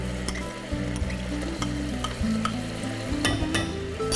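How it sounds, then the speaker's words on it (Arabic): Tomato sauce and tomato juice are poured into a pan with garlic and a small knob of butter and stirred, giving a steady sizzle and scraping close up with no talking. "خلينا دلوقتي نحط الصلصة وعصير الطماطم انا خلطهم مع بعض."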